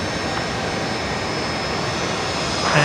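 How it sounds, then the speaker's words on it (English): An Aircalin Airbus A320neo taxis along a taxiway at Brisbane Airport with a steady, moderate jet engine whine and hum that swells slightly at the end. "Air Callan, the 320 Neo, that beautiful livery, just taxiing along Bravo there"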